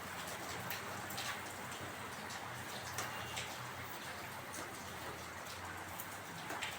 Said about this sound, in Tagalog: So, lakas pang ulan guys.